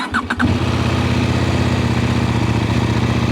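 A CF Moto 800 NK motorcycle engine with stock exhaust cranks briefly and catches, then settles into a steady, deep idle that stays loud and close.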